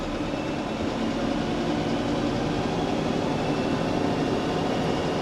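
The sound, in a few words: tractor PTO running silage equipment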